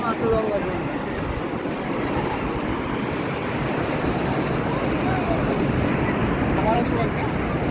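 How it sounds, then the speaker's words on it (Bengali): Rough sea waves roar and wash continuously in a broad, steady rumble with wind, loud and close, with faint voices in the background. "আজকে সমুদ্র উত্তাল বেশি কালকের চেয়ে।"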